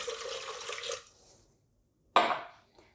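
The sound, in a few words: pouring a glass of water into tomato sauce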